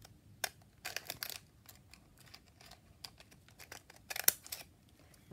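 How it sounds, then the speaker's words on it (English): Scissors cut paper downwards along two lined-up edges for a scholar and ledger decoration, making crisp snipping and slicing strokes in irregular bursts, close and clear against a quiet room. "So I line those two edges up, yeah, and then I cut downwards."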